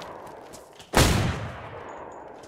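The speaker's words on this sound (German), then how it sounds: "der schießt in meine Richtung" A single sharp gunshot blast in the video game DayZ rings out near the start, its echo decaying over the next second against a faint background.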